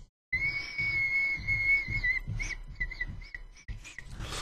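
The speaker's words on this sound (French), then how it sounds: "vous avez moyen de vous retrouver avec un joli sifflet en fait" A Prometheus vape atomizer whistling through its adjustable airflow, a thin steady high-pitched tone that holds for about two seconds, then breaks into shorter wavering whistles over the breathy rush of a close inhale.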